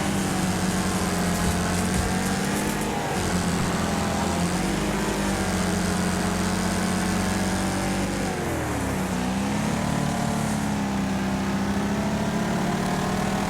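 A race car engine roars continuously through a lap in a video game streamed to an iPad, loud and close, with pitch rising and falling through revving, shifts and braking and no talking over it.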